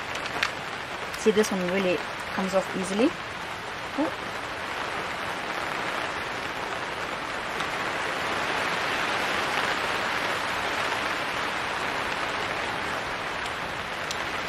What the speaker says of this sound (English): Ooh, it's starting to rain,